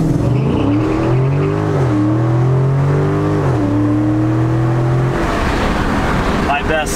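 A Dodge Hellcat launches hard, its loud engine note climbing in pitch through a couple of gear changes before breaking into a rushing roar near the end, close to the microphone.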